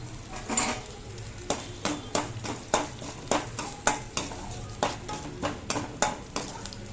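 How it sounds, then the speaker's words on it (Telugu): Spices crackle and sizzle as they are tempered in hot ghee, with a run of sharp, regular metallic clinks from stirring against a pan, close and steady, no voices. "పోపులు వేస్తున్నానండి."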